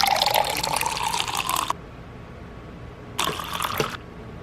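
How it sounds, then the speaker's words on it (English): Water pours into a small mini beauty blender washing machine in two short bursts, close and clear, a steady splashing stream of about two seconds, a brief pause, then a shorter pour of under a second. "We're gonna add our water."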